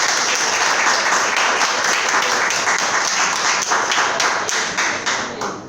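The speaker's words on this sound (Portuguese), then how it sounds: "Eu quero que você aplaude o Senhor Jesus." Church congregation applauding for Jesus, a loud, dense burst of many clapping hands that holds steady, then gradually thins and fades toward the end.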